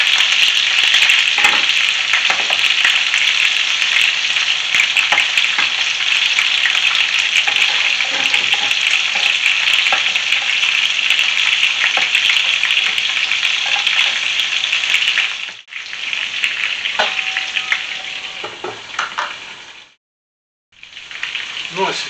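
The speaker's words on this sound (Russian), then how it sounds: "Вот, уже хорошо обжаривается. Красивые такие ребрышки становятся." Pork ribs fry in a pan with a loud, steady close-up sizzle that holds for about fifteen seconds, then drops out twice in brief gaps before resuming.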